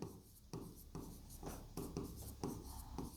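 Chalk or pen scraping across a board during a chemistry lesson on acids, bases and salts: steady scratchy strokes in short repeated bursts, close and fairly quiet, with no talking.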